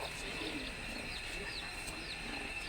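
Pigeons coo softly and repeatedly at a distance over steady outdoor background noise, with faint chirps mixed in.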